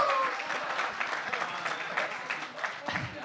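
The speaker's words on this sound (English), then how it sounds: "give him another round of applause" An audience at an arts talk applauds for Bob, a moderate, fairly close wash of clapping that tapers slightly, with voices and a short laugh mixed in.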